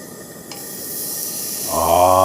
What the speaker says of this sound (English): Oh, hear that sizzle?